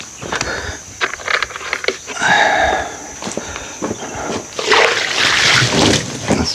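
Water is thrown and splashes onto freshly cut ash and oak slabs in several bursts, with scattered knocks and drips between them, close by.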